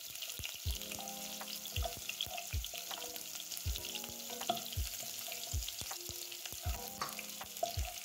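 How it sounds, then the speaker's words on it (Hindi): Onions frying in a pan give a soft, continuous sizzle under repeated clinks and scrapes of a stirring spoon against the metal, close but fairly quiet, with nobody speaking. "अब इसमें डालना है प्याज और इसको बड़े अच्छे से हमने हिलाना है।"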